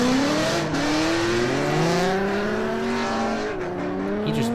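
A Nissan 350Z drift car at a pro-am drift competition burns its tires, a loud sustained engine scream with rising and falling pitch and continuous tire squeal, steady and close throughout.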